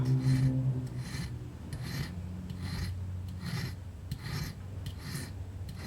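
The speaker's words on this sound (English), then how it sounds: "And I simply file the bevel edge on it." A metal file rasps across the bevel edge of a homemade wood carving tool in steady, evenly spaced strokes, about seven passes, close and moderately loud with no talking.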